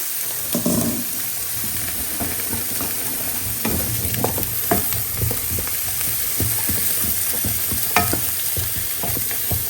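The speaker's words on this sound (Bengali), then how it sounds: "এখানে এখন আমি কাবাবগুলো একটু ভেজে নিই" Kebabs frying in a pan at home for an Eid meal give a steady, close sizzle, broken by scattered clicks and scrapes of stirring, with no talking.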